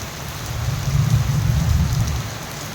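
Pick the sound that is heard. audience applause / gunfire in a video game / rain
rain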